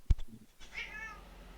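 Cat meowing indoors, a short faint call with a drawn-out, tonal upper wail after a brief thump, heard alone against low room noise.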